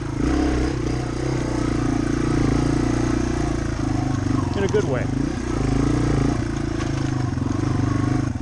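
A Yamaha TW200 dual-sport motorcycle engine chugs steadily in first gear at low revs just above idle, a constant close rumble with occasional clatter, while someone talks over it.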